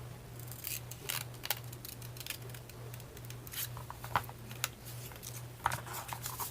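Scissors snip through paper or ribbon while making roses by hand, a series of close, crisp cuts at an uneven pace over a low steady hum, with no talking.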